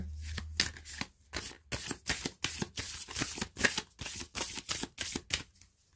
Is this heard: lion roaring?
no